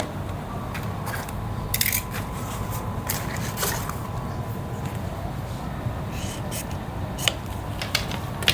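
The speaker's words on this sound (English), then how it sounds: "we can cut the bias tape, and we need 6 of them" Scissors snipping through fabric bias tape on a sewing table, a scatter of sharp, close crisp snips and clicks spaced irregularly over a low background hum.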